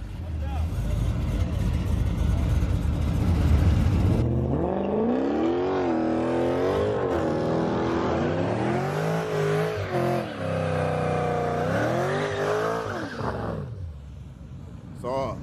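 Race cars on a track roar and rev, with loud engine drone and rising and falling acceleration sweeps as they pass, while someone talks over much of the action.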